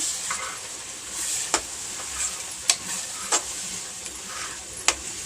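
Tomato paste sizzling in a hot pan for veg biryani, a soft steady hiss broken by several sharp spoon scrapes and clicks as it is stirred.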